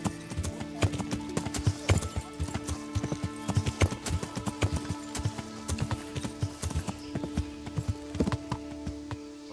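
Horse hooves clip-clop in the video game Kingdom Come: Deliverance, a steady rhythmic trot of many quick knocks, fairly close and moderately quiet, with a faint tonal hum underneath.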